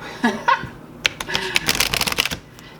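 Oracle cards shuffled by hand in a few quick riffling bursts, close and crisp, with a short laugh and some voice sounds around the shuffling.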